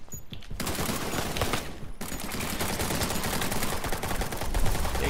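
Dense, loud, continuous gunfire in a video game, rapid overlapping shots with only a brief lull near the start and no voices over it.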